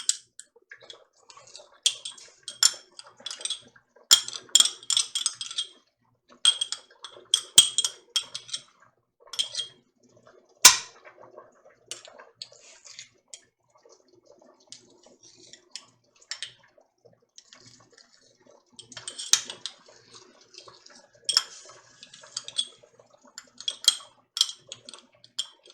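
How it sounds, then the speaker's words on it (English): A spoon scrapes and clinks against a pot while stirring ham and potato soup with heavy cream and cheese: scattered irregular taps and scrapes, close and fairly crisp, in bursts separated by quiet pauses. "I'm just going to stir this occasionally"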